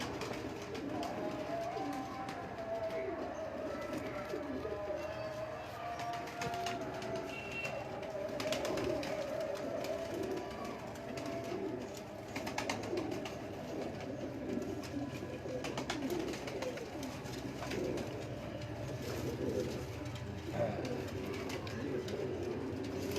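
Pigeons coo in low, soft, repeated murmurs close by against a steady dense background hum, with a few wing flutters and a faint voice in the distance.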